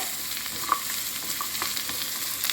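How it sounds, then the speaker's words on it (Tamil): Garlic, whole shallots and radish sauté in hot oil for radish chutney, giving a continuous close sizzle with faint crackles and no talking. "எல்லாம் ஆயிலில் நல்லா வதங்கி வரட்டும்."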